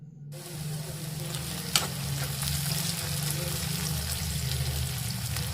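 Onions frying in a pan for a spicy paneer curry, a steady loud sizzle with stirring scrapes and one sharp clink, continuous and close.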